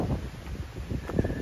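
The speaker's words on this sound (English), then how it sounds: "It is windy." Gusty wind on a cold October morning on the Appalachian Trail in Georgia buffets the microphone, a low rumbling roar with uneven surges throughout.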